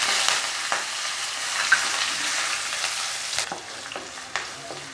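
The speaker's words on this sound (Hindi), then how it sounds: "सौंफ और कड़ी पत्ता डालेंगे और प्याज डालेंगे। और इसे अच्छे से मिक्स कर लेंगे" Onion, fennel seeds and curry leaves fry in hot oil in a pan, a steady close sizzle broken by the scrape and clack of a spoon stirring every second or so, with no voices.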